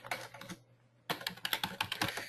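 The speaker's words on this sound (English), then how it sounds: "Sorry, I'm typing fast here." Fast typing on a computer keyboard: quick bursts of clicking keys, a short pause, then another rapid run of keystrokes, close and fairly quiet.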